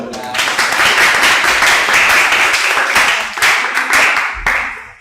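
A classroom audience claps after a group presentation, a dense, steady patter of many hands filling the whole stretch, fairly loud and close, with a few stray voices mixed in.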